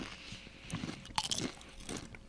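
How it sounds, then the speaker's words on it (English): Close, dry crunching as a Milk-Bone dog biscuit is bitten and chewed, several sharp cracks followed by grinding chews, heard alone without talk. "I want to hear my crunch."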